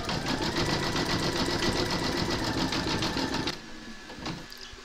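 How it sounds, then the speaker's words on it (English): An embroidery machine zigzag-stitches the edge of a heart on a gnome quilt block, a steady close mechanical whir and rapid needle rattle that stops abruptly, leaving quiet handling noise. "pop your hoop into your machine and stitch round number 14, and that's going to zigzag the edge of the heart"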